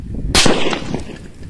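A single loud, sharp rifle shot from an M4 firing 5.56 NATO rounds at a target 150 m away, with a short booming tail ringing out after the crack.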